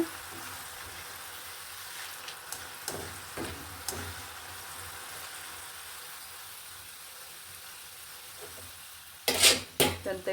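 Avarebele mixture frying in bubbling oil, with a steady low sizzle, scattered stirring taps and a burst of louder clattering scrapes near the end.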